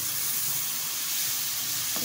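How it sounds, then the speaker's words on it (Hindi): Boiled potatoes with spices sizzle and fry in a pan and are stirred, making a steady, close hiss with faint scraping and no talking. "इसको थोड़ी हिलाना है"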